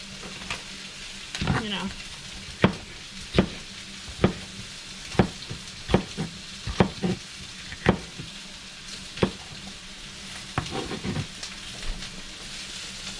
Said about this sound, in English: It's cooking on the flat top